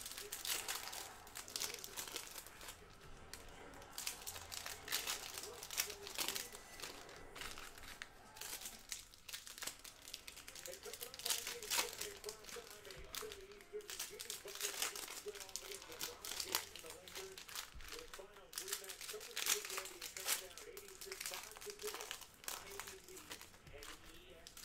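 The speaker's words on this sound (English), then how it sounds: "And now let's rip these guys open here." Foil packs of 2019-20 Panini Hoops NBA basketball trading cards being torn open and handled, with steady close crinkling and tearing throughout and a voice talking faintly underneath.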